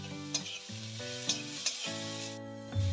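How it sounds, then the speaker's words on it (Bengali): Chopped carrot, capsicum and beans fry in a pan over medium-low gas, a steady sizzle laced with tonal kitchen hum and a few sharp clicks of stirring, close and continuous. "এবার দেব গাজরের কুচি, ক্যাপসিকামের কুচি আর বিনস। এগুলোকে 2 থেকে 3 মিনিট ভেজে নেব।"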